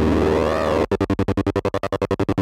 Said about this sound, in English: if you press this chop button, guess what it does? It chops your signal up.